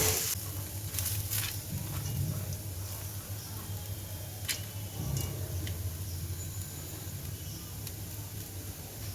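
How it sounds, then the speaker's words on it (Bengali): Red lentils and onion fry together in a pan, making a low, steady sizzle under a background hum, with a few scattered clicks and stirring knocks. "পেঁয়াজের সাথে ডালটা একটু ভেজে নিচ্ছি"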